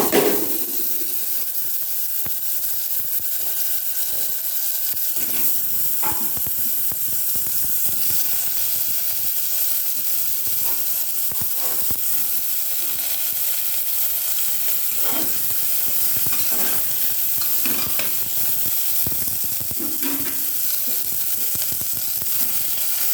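Bottle gourd and potato pieces frying in oil tempered with cumin and panch phoron, a continuous even sizzle with occasional stirring scrapes, close and steady.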